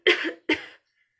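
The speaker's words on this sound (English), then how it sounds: "Right here where our arm bends, stick your face in there and you can cough." A person coughing into the bend of the arm, two short, close coughs in quick succession followed by silence.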